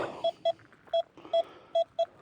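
A metal detector gives a series of short electronic beeps, six in irregular rhythm, sounding faintly over quiet background rustling.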